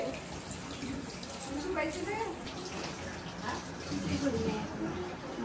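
A tap runs steadily while hands are washed at an evening mehndi gathering, giving a continuous close splashing rush, with faint voices underneath.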